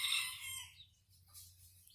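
A silkie mix frizzle rooster with few leg feathers gives a short, faint crow that fades within about a second, over a low background hum.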